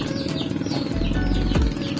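Soft pigeon sounds with a brief burst of wing flapping partway through, close by, over a low background hum.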